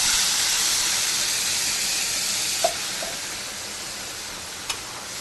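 Onion paste hits hot oil with a loud, broad hissing sizzle that holds steady and slowly fades, with a couple of brief clinks along the way.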